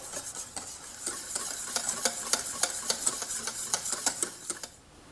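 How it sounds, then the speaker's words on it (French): Béchamel mixed with egg yolks for pastéis de nata being stirred in a bowl, a steady run of quick rhythmic taps and soft scrapes from the utensil, close and fairly loud, easing off at the end with no talking. "On va pouvoir incorporer nos jaunes d'œufs. On mélange une dernière fois."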